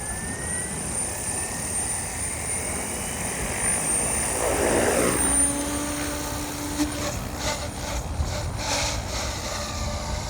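An RC helicopter running a FrSky Vantac RF007 Rotorflight flight controller spools up at idle up, its rotor whine rising and holding steady close by, with a brief swell partway through.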